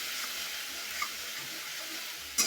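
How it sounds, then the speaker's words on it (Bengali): Spices frying in oil in a pan for a village-style chicken curry made with country chicken, a steady close broadband sizzle running throughout with one brief clatter at the end and no talk. "কষানো হয়ে গেছে, দেখুন তেল ভাইসা উঠে গেছে উপরে।"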